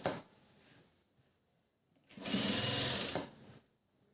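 A sewing machine stitching the lining of a blouse, with a short run of stitching, a pause, then a louder steady burst of about a second and a half at close range, no talk.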